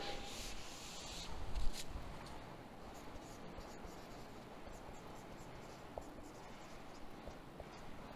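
Chalk or pen writing out a letter's greeting on a board during an English lecture, a soft continuous scratching and rubbing that runs steadily under faint room noise, with no talk over it.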